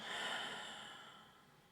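Slow exhale through the nose during a gentle yoga flow, a soft airy breath close to the mic that fades out gradually, heard alone.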